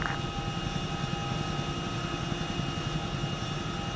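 Steady, droning rotor and turbine roar of a Chinook helicopter in the game Arma 3, continuous and close with a deep low rumble and a whining tone layered on top.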